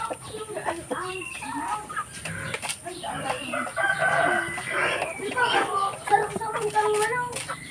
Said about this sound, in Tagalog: So, mga manok ko.